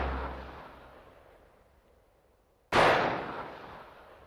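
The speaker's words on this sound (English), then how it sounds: "2 gunshots are heard in the distance" Two sharp distant bangs: one at the very start trailing off into a quiet rumble, then a louder crack later that decays slowly into open air.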